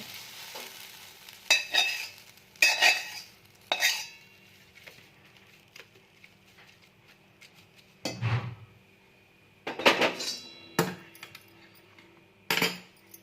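Roasted cumin, coriander, mustard seeds and peanuts are scraped out of a pan onto a plate. A metal spoon gives close, scratchy bursts of scraping and clatter, separated by quiet pauses.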